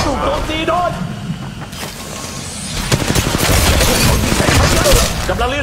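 Gunfire in the Apex Legends Mobile video game, rapid automatic bursts that grow heavier and denser in the second half, mixed with game effects and voices talking.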